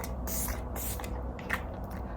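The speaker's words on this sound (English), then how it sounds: "Let's do a little spritz of fixing spray." A few quick spritzes of makeup fixing spray, broadband hissy bursts close to the mic, repeated in short pulses while getting ready in a travel setting.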